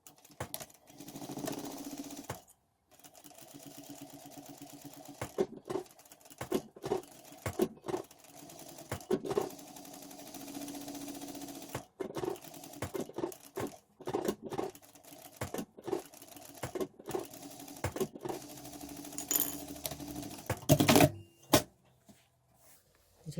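A sewing machine stitches around the lid of a fabric card wallet in short and long rapid bursts separated by pauses, close and fairly faint.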